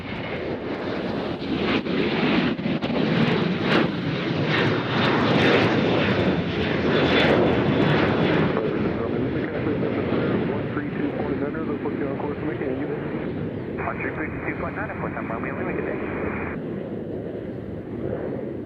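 A Southwest airliner takes off at Nashville International Airport, a loud steady engine roar with rushing wind noise sustained for nearly twenty seconds, while voices talk underneath.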